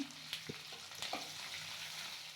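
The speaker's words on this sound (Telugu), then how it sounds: "సో ఆనియన్స్ బాగా ఫ్రై అవనివ్వండి" Onions fry in hot oil with tempering spices that have already browned, for a tamarind broad-bean curry, giving a quiet steady sizzle with a few soft stirring scrapes and no talk.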